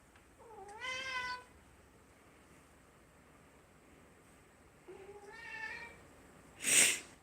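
A cat meows twice, a drawn-out call and then a second one several seconds later, followed by a short burst of wind noise.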